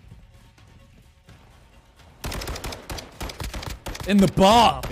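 Rapid gunfire in Call of Duty erupts suddenly after a quiet stretch, a loud rattling burst of shots mixed with voices talking close by.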